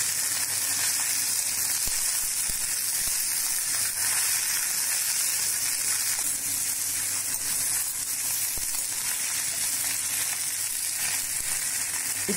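Vallarai keerai (Centella) greens saute in a pan with a continuous dense sizzle and hiss, broad and steady from start to end, close up with an occasional faint stir and no voices.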